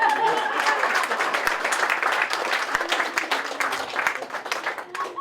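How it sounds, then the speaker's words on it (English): A comedy show audience gives a lively round of applause, loud and dense at first, then thinning out over five seconds as scattered claps fade. "Round of applause."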